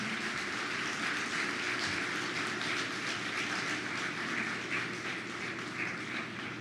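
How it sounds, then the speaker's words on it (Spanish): A church congregation claps together in steady, sustained applause, a dense wash of many hands that fills the room evenly from start to finish with no voices over it. "Dale un aplauso al Señor."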